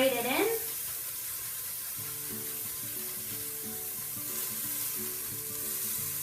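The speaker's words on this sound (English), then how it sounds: "Now I'm doing my garlic, same thing, just grate it in." Freshly grated ginger and garlic sizzling in a pan for a vegan chickpea-mushroom curry, a steady moderate frying hiss with faint utensil taps and a short voice at the start.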